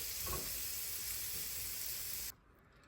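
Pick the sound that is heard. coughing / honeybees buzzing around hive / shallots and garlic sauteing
shallots and garlic sauteing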